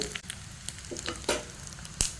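Dry red chillies crackle and sizzle in hot tempering oil with garlic and mustard seeds, a steady close fry with sharp pops and spits scattered through it.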